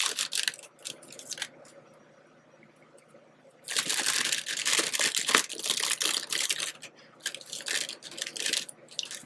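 Washi tape being handled and torn while a paper journal is made, with close, crisp crackling and ripping bursts in irregular clusters, separated by a quiet stretch.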